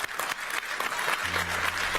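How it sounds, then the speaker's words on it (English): Audience at a live debate or talk event claps steadily for about two seconds, a dense patter of hands with a low hum rising near the end. "I thought maybe the audience was clapping for her, not for him"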